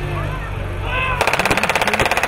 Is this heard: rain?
no